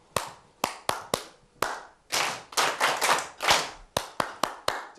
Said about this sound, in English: The dynamics are louder on the first claps and softer on the last clap.